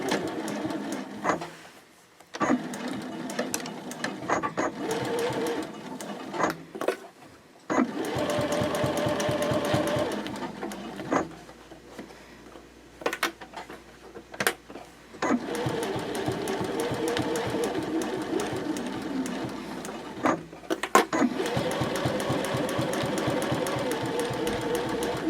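Sewing machine stitching a seam on a square fabric basket at a 3.0 stitch length with a half-inch seam allowance, running in several steady whirring bursts separated by short pauses and backstitch stops, close and moderately loud.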